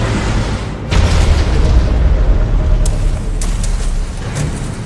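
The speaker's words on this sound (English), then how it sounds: "Nuclear weapon launched." A nuclear weapon detonates in the Command & Conquer: Rivals video game, a loud, sustained rumbling explosion that swells about a second in and roars on for several seconds with a few crackling bursts, and no voices.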